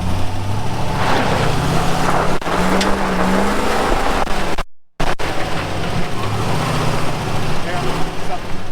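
A brand-new Land Rover Defender engine revs loudly and close, rising and falling in bursts, with people talking over it and a brief dropout midway.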